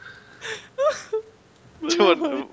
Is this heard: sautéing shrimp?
no